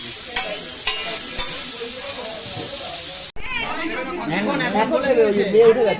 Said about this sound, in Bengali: ম্যাগি ফ্রাই হচ্ছে